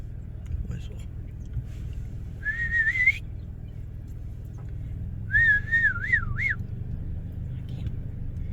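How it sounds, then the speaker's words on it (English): A person whistles two short tunes outdoors near a highway, the first a rising note and the second a wavering trill, clear and close over a low traffic rumble. "whistle."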